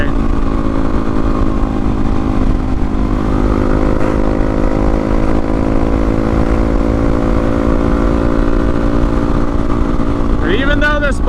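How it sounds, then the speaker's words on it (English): A relatively slow motorcycle on knobby tires hums steadily through corners, its engine drone loud and constant and mixed with wind rush, with a voice speaking briefly near the end. "even though this bike is slow, or relatively slow, and it's on knobby tires, then it's still fun doing corners like this"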